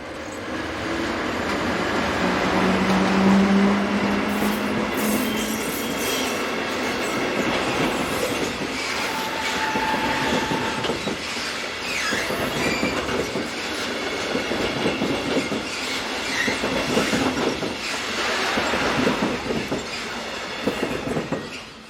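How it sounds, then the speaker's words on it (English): A TPF Class 537 unit from 1983, serving Fribourg, rolls by on single track with steady rumbling, clickety-clack wheel beats and brief squeals, loud and close throughout. "TPF operate just 3 of these Class 537 units on their services to and from Fribourg, all of which date from 1983."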